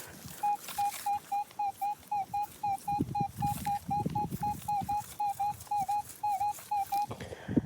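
A Minelab Manticore metal detector's target tone beeps in a steady, rapid series of short pulses, with faint scraping and rustling underneath from about halfway on.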